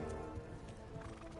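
Horses in the medieval video game Kingdom Come: Deliverance neigh and clop close by, a dense, full burst of whinnying and hoof sounds without talk.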